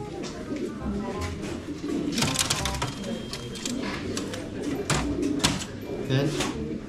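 Racing pigeons cooing inside a loft, a dense close chorus of low throaty coos with flutters and scattered clicks, while people talk in the background.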